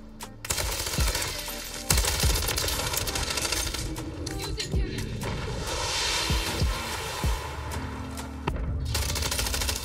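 MTZ 556 assault rifle fire in the video game Warzone, repeated sharp bursts and single shots across the clip over dense game ambience, with a player talking in places.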